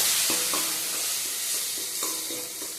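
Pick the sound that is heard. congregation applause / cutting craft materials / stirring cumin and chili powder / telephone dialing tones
stirring cumin and chili powder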